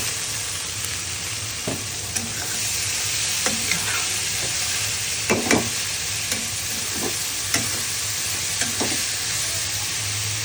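Vegetables stir-fried over high heat, a constant loud sizzle broken by sharp scrapes and clanks of a spatula against the pan at irregular intervals.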